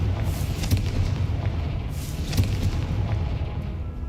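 A Confringo fire spell bursts in the Hogwarts Legacy video game, a series of heavy booming blasts with sharp cracks and rumbling tails, repeating every second or so, loud and close.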